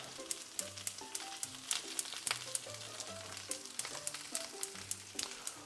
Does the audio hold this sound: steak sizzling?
yes